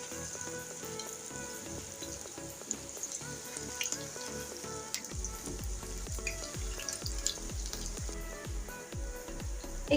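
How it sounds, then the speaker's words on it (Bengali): Pointed gourd (potol) snack pieces fry in oil over low heat, giving a steady, faint sizzle with a rapid crackle. A soft rhythmic thumping enters halfway through, and no voices are heard. "এখানে আমি অর্ধেক করে ভেজে নিচ্ছি, অল্প অল্প করে।"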